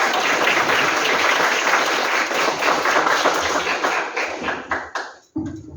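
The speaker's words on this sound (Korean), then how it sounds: "박수로 부탁드립니다" Dense audience applause greets the mayor of Goyang at a public talk event, loud and steady for about four seconds before thinning into scattered claps and fading out.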